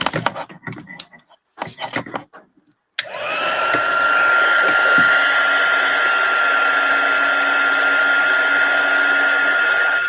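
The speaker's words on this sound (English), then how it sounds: "I love it when the heat gun works fast." After a few seconds of soft rustling and handling noises, a heat gun switches on abruptly and runs with a steady, loud whirring blow and a constant high whine that continues to the end.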